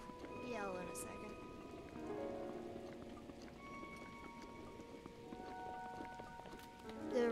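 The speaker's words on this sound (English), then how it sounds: "it'll go on, and then, like, it'll start raining, stop raining, and start raining again" Steady rain falls in The Legend of Zelda: Breath of the Wild, a soft continuous patter over the game's tonal music and effects, with a player's voice talking over it.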